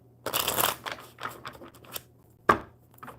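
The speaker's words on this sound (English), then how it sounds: "One more good shuffle for Cornelius" Playing cards being shuffled during a live coffee-club card session, a few quick riffles and bridges in close succession, close and clear with a steady low hum beneath and one sharp snap near the end.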